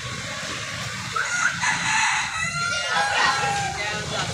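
Live desi chickens cluck and a rooster crows inside a poultry shop, the birds loud and close, while people talk nearby over a background murmur.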